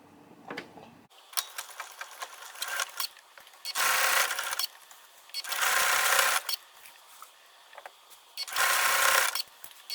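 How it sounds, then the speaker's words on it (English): A sewing machine fitted with a blind stitch foot runs in three loud bursts of rapid stitching, separated by quieter pauses with light mechanical clicks. "So now I'm going to stitch right along the edge of the strip."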